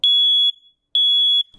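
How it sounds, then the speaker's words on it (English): A smoke detector sounds two loud, piercing electronic beeps, each about half a second long, separated by a brief silence. "Keep a beep where you sleep, like that smoke detector."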